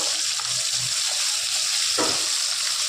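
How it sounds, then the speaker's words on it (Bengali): Fish frying in a pan for a Bengali curry gives a steady, close sizzling hiss throughout, with a couple of brief stirring or scraping touches and no talk. "লাল করে ওই একইভাবে ভেজে নেওয়া হবে।"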